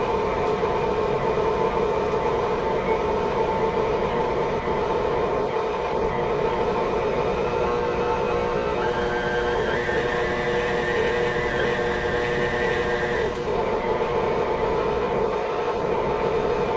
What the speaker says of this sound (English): the recipe here says to put it in a stand mixer, so that's what I'm doing